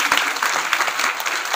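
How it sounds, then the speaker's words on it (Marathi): An audience at a Marathi kirtan applauding the two mridang players, a loud, dense burst of hand clapping that fills the whole moment with no voices on top. "दोन्ही मृदुंगाचार्यांकरता जोरात टाळी वाजवा सर्वांनी."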